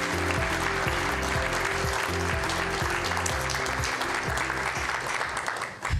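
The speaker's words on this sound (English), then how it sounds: "please give them all a round of applause" Audience applause for panelists at a Clinton Global Initiative health equity session, with sustained dense clapping over a loud, rhythmic music bed that runs throughout.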